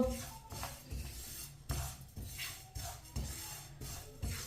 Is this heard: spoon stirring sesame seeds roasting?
yes